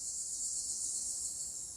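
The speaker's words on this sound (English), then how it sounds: "I mean, it just sounds like crickets." Steady, high-pitched cricket chirping fills the background as an unbroken shrill band, with no other clear sounds or talk.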